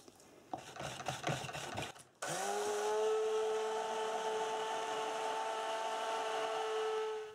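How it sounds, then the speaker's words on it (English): A stick blender whirs into a bowl of cold-process soap batter after a few seconds of scraping and handling, then holds a steady, close motor hum as it mixes toward medium trace. "Then we're going to use our stick blender to bring this to a medium trace today"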